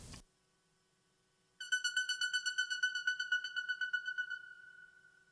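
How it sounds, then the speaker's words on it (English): A bright Omnisphere synth string tone chopped by LFO Tool into rapid rhythmic pulses, steady for a few seconds before fading out, with no one speaking. "an omnisphere string sound, and I used LFO tool to chop it"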